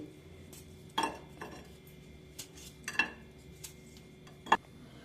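Sharp, scattered clinks of a knife against a metal pan as jaggery is cut into small pieces into it, a few distinct taps spaced apart over a quiet background.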